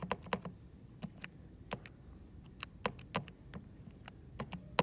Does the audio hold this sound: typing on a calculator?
yes